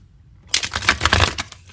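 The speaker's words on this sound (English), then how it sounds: "So let's give it a good shuffle." A fairy-themed tarot card deck is shuffled by hand, giving a burst of close, crisp riffling and flapping card clatter with uneven rhythm, loud and alone.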